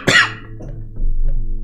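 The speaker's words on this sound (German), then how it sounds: "Jetzt hustet er schon wieder um." A character in the adventure game Day of the Tentacle gives a single harsh cough followed by a low rumbling tail, loud and close.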